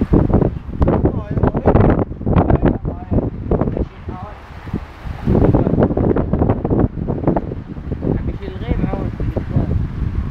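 Strong storm wind buffets the microphone in Bahrain, a loud continuous roar with rushing gusts, while people talk over it.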